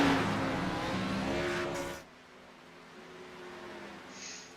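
A race car engine drones loudly, then drops to a quieter idle-like hum as the car pulls onto the track at an evening dirt or oval race event.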